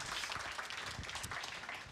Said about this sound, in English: I think that deserves a round of applause for Enable.